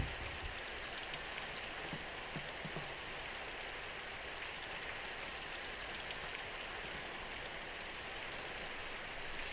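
Steady rain patters on surfaces in the visual novel game Symphonic Rain, a soft continuous hiss with scattered drop ticks, faint and even throughout with no voices.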